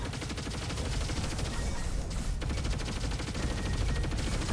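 Dense, rapid gunfire from the Hurricane Rifle in the video game Roboquest, a continuous loud automatic stream of shots with heavy low-end thump and barely a pause throughout.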